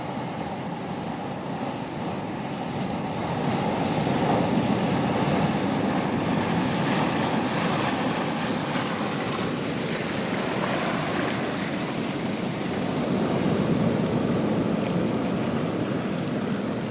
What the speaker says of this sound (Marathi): आणि या समुद्राचा आवाज बघा कसा येतोय